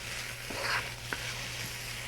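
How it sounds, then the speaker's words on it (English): Snow peas stir-fry in a non-stick wok with an even sizzle and a few quick stirring scrapes, close up and without speech. "And here are the snow peas. Add those right in. Keep on stirring."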